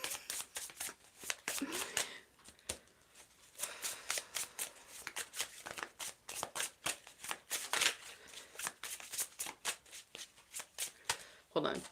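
Tarot cards are shuffled in repeated quick bursts of crisp riffling and flicking, close and clear, with a person talking over them throughout.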